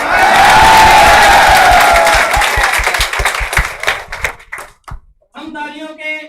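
A packed seminar audience applauds loudly, with dense clapping that thins out and dwindles after a couple of seconds before a voice begins speaking.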